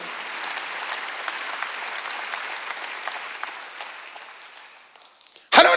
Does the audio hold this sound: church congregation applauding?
yes